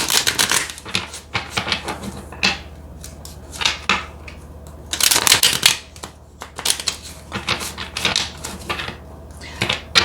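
A well-worn tarot deck is shuffled by hand, giving repeated bursts of riffling card flutter and soft slaps, close and fairly loud, with no talking.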